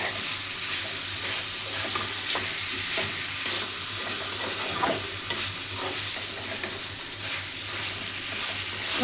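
Meat and spices fry in a pan while being stirred, giving a steady close-up sizzle broken by repeated scraping strokes of the spoon, with no talking.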